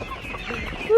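Chickens being raised naturally on home-produced worms cluck softly and steadily throughout, with a louder, sharper call rising at the very end over a busy farmyard background.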